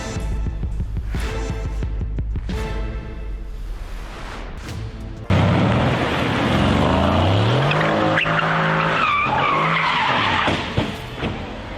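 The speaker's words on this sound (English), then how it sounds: "When you are trying to drift to impress, but forget that there is a tree standing there waiting for you." A luxury car skids with squealing tires while drifting, then crashes into a tree; loud, continuous tire noise dominates after an opening stretch of music, with sharper impact bursts near the end.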